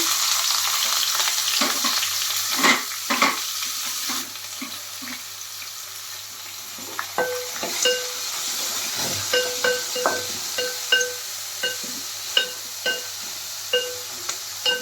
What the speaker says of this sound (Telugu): తాలింపులు అయితే వేగినాయి ఇందులో అయితే ఉల్లిపాయ పచ్చిమిర్చి అయితే వేసేసుకుంటున్నాం